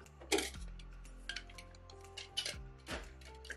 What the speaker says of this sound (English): I'm going to add some ice, shake it up,